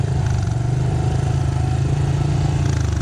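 A fuel-injected Honda CRF110 pit bike engine runs steadily and loud up close, a continuous buzzing drone with a low rumble and no speech over it.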